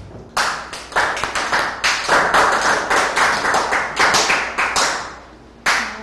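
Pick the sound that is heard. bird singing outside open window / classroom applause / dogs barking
classroom applause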